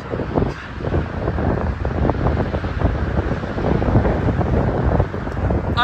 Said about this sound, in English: Extremely breezy outside, so if there's excessive wind noise